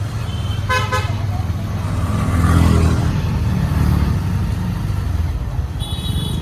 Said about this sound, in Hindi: गाड़ी चल पड़ा